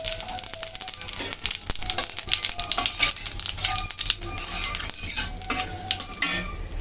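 Dry red chillies, cumin seeds and a bay leaf sizzle in hot mustard oil left from frying fish, crackling steadily close by, with repeated clinks of a metal spoon against the pan and a little speech.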